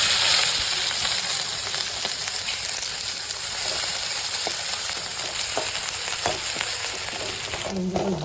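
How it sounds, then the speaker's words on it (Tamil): Ginger, garlic, green chili and curry leaves fry in hot oil with a loud, dense, steady sizzle and crackle, plus occasional light stirring taps up close. "இஞ்சி பூண்டும் இந்த பச்சை மிளகா கட் பண்ணி வச்சு ஒரு கொத்து கருவேப்பிலையும் போட்டு"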